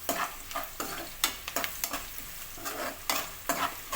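Sliced onions with turmeric are stirred in hot oil in a pan, giving a steady sizzle broken by repeated scraping strokes of a spoon at a fairly regular pace, close up and with nobody talking.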